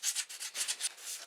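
Sandpaper rubs back and forth over aluminium to strip its oxide layer, giving quick rhythmic scratchy strokes, about seven or eight in just over a second, close and fairly quiet.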